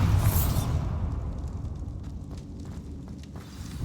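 A Bombarda spell blast in Hogwarts Legacy bursts open loudly with a sharp, bright crack, then settles into a heavy, rumbling roar with debris crackle that fades over a few seconds.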